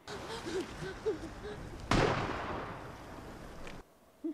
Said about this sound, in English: Well, his gun still works.